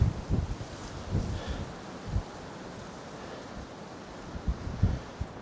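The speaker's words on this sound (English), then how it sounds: "It's a breezy day at the lake." Gusty wind buffets the microphone in low rumbling bursts, with a soft steady rush of moving air and faint water lapping underneath at a lakeside cabin; no voices.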